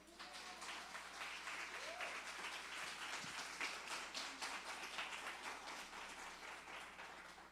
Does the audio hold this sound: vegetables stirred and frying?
no